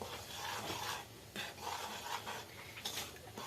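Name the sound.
mixing baking powder into flour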